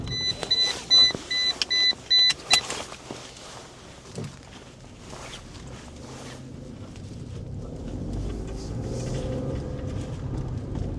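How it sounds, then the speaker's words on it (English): A Toyota Aygo with an MMT automated manual gearbox, prone to dropping into neutral, drives off: a repeating chime beeps at first, then engine and road noise build steadily inside the cabin. "So it's selecting through the gears nicely."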